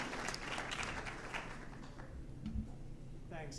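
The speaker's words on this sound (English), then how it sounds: "A big round of applause to Maroš." An audience at a business forum opening ceremony applauds, a fairly quiet, distant spread of clapping that thins out toward the end.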